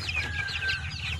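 Oriental breed chickens cluck and chatter close by, a busy overlapping flock over a low background hum with no talking.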